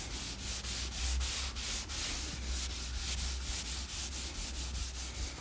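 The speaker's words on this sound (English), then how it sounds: "Let's take my chamois and rub it in." A chamois rubbed briskly back and forth over charcoal on a drawing ground, a close, steady swishing scrape with regular strokes and no talk.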